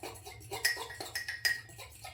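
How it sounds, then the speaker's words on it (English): A fork clinks and scrapes against a bowl while mixing chocolate cake batter, with quick, irregular taps and a few brighter metallic chinks, close and fairly quiet. "I usually use a fork because it mixes it up better"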